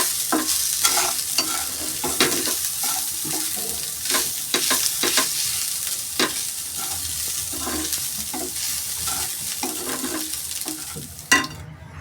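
A green toor kachori filling of sesame, ginger, coriander, chili and garam masala is stirred and mixed in a pan. Frequent scraping clicks and light taps run over a low background hiss, with no voices.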